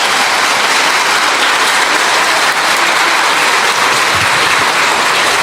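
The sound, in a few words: applause for the children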